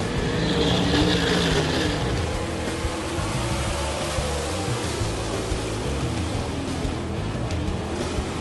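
Dirt track race cars roaring off the start of a heat race at a county speedway, a dense, continuous engine rumble like a pack at full throttle, loud and steady throughout.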